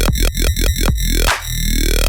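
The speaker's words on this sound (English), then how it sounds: "I'm going to teach you how to make a tape B style bass that sounds like this." Tape B style bass synth with five quick stabbing notes that each dive sharply in pitch, then a final gliding note that drops and holds as a buzzy, harmonically rich drone. The tone is loud and clean, with no voices.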